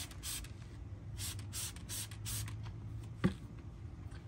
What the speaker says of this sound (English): Just spray some drying aid directly on the towel.